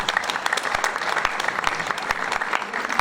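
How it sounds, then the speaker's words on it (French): A room full of people at a Rotary Club dinner claps steadily, a dense patter of hand claps with no voices standing out. "je pense qu'on peut les applaudir"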